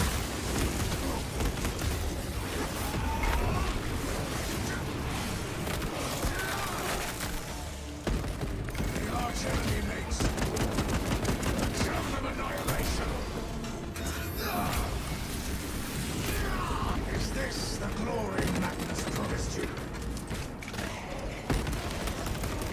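Gunfire in a mobile space shooter game during long-range combat makes a dense, near-continuous stream of shots, bursts and booms mixed with other game effects, loud and busy throughout.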